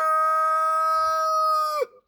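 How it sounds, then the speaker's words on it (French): A salmon-colored dirty white rooster crows close by, one long loud sustained call with a clear rich tone that drops off sharply at the end, heard alone. "Merci le coq saumonné blanc sale."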